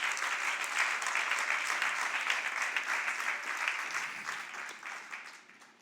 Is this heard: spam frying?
no